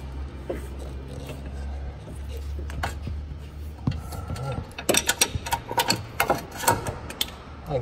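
Quarter-inch ratchet clicking while turning bolts on a 2010 Chevy Traverse during alternator work, a run of sharp mechanical clicks in bursts, close by, over a low engine-bay hum.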